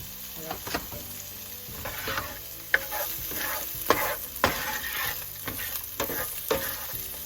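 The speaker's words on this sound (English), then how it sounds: "Sizzle, sizzle." Onions and cabbage sizzle and crackle in a hot frying pan, with intermittent scrapes and clacks of a utensil stirring.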